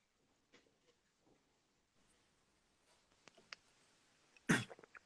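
Faint scattered rustling, then a single sharp cough close to the mic near the end, followed by a few small throat sounds.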